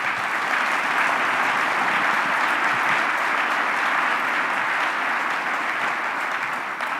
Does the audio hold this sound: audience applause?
yes